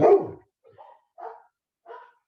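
A dog barks outdoors: one loud, close bark followed by three shorter, fainter barks spaced about half a second apart, with nothing else around them.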